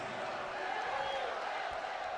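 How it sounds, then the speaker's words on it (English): A wrestling arena crowd in the WWE 2K video game roars steadily behind a match, a continuous distant cheering wash with some commentary-like voice mixed in. "And you can hear the crowd behind Sami Zayn."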